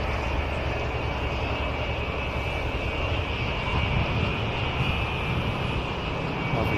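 A Republic P-47 Thunderbolt flies past at an air show arrival day, its piston engine a continuous rumbling drone mixed with broad airframe noise, steady and fairly strong without pause.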